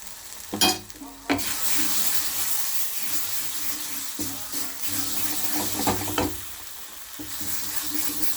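Coriander and cumin dry spices fry in a pan under repeated scraping strokes of a spoon, a continuous close sizzle punctuated by sharper stirring clatters, with no talking.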